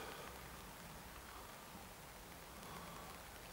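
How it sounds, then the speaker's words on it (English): Steady rain falls outdoors at a former concentration camp site near Auschwitz-Birkenau, a continuous broadband hiss of drops on surfaces with no breaks, fairly close and even in level, with no voices. "It's hard filming because it's raining."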